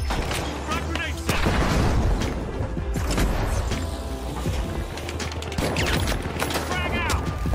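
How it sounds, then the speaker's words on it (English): Frag grenade blast in The Finals, a loud booming explosion with rumbling gunfire and game noise around it, the sharp onset near the start and continuing clatter throughout. "Frag grenade set."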